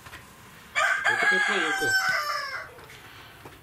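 A rooster crows once in a backyard chicken coop at a dacha, a loud drawn-out call rising then trailing off, with a voice speaking briefly over it.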